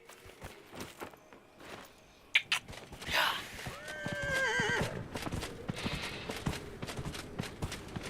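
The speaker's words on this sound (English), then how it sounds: "Horsey horse." A horse in the video game Dragon Age: Inquisition gives one loud, close neigh that rises and falls for about two seconds, framed by a rapid run of sharp hoof clops on the ground before and after.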